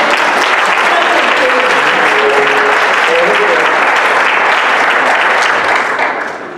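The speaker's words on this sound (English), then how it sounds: "With a big applause." Loud, sustained audience applause fills a hall as a coach is welcomed on stage at a coaching talk, a dense steady wash of clapping that holds throughout and tapers slightly at the very end.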